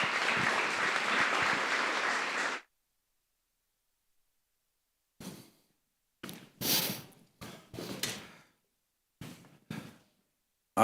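A summit audience gives a burst of hearty applause that stops abruptly after a couple of seconds, followed by silence and a few scattered faint thumps and knocks.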